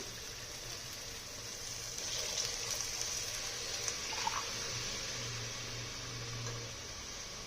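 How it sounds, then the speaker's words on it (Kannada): Water pours steadily for several seconds into a pot of rice during pulao preparation, two glasses' worth, a continuous close splashing stream with no talk. "ಇದರಲ್ಲಿ 2 ಗ್ಲಾಸ್ ನೀರು ಹಾಕ್ತೀನಿ"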